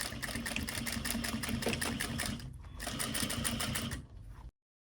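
A sewing machine runs steadily while stitching along the top edge of ripplefold drapery, with a brief slowdown partway through before resuming and stopping abruptly; no talking.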